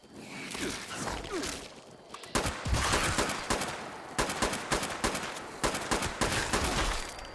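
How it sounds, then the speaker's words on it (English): Gunfire in the video game Fallout 76 Wastelanders: a dense, loud fusillade of rapid shots and bursts. After a quieter stretch with a growl, it erupts and continues in rapid clusters close by. "Clearly just shooting randomly right now. Shooting blindly."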